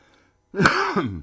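A single rough cough or throat-clear bursts out after a moment of near silence, close and fairly loud.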